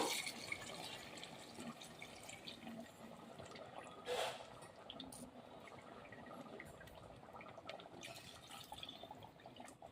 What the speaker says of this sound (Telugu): ఇందులో వాటర్ పోస్తున్నాను